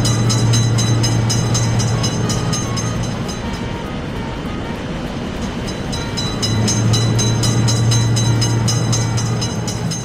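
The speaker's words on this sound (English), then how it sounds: "Train is in sight." A train rolls by continuously in a railway crossing video game, with a deep rumbling hum and rhythmic rattling, steady in loudness with a slight dip in the middle.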